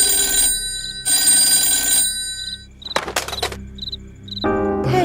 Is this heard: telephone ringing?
yes